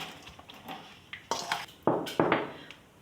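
Spiced chicken marinade with chili powder, dried coriander and turmeric being stirred in a bowl, a spoon scraping and clinking against the dish in a series of close, sharp knocks that grow louder toward the end, with no talking.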